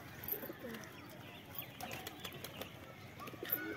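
Soft, faint wing flaps from pigeons flutter in short bursts against a quiet outdoor background, with a few distant bird sounds.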